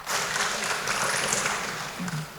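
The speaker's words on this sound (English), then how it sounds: "So give a round of applause." Applause from an audience at a teaching event on critical thinking with AI, a steady wash of clapping lasting a couple of seconds without a break, close and fairly full.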